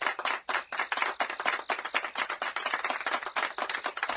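Applause greeting a prize winner as she comes up to receive her award, dense rapid clapping from a crowd that rises and dips in waves and carries on without a break.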